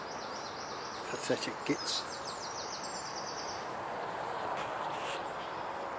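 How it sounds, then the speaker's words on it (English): Reed warblers chatter and trill from a reed bed on a sunny morning by the water, faint and somewhat distant over a steady outdoor hiss, with a brief stretch of nearby talking. "it's full of the sound of reed warblers this morning"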